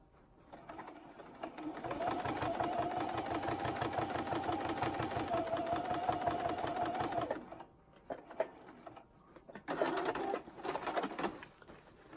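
Sewing machine quilting segments of acrylic-painted fabric, a close, steady rapid needle chatter for about seven seconds, then short, stop-start bursts of stitching after a pause.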